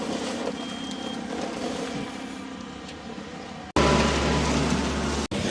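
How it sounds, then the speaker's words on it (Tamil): Truck arriving on a street around six in the evening, its reversing alarm beeping steadily under a low engine rumble, followed by a louder, closer burst of engine noise near the end. "அவங்களுடைய வாகனம் வந்து இப்போ தான் வந்திருக்குது"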